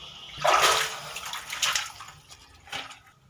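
Water pouring and splashing from a hole found while drifting, in bursts that swell and fade, close and moderately loud, with no talking.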